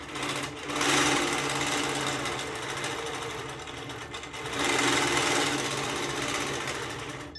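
Sewing machine stitching a quilt, a fast buzzing needle chatter in two sustained runs separated by a brief pause, close and clear with no talk.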